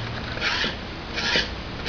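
A scraper rasps loosened paint off an antique Westinghouse H-126 refrigerator radio in two close, gritty strokes.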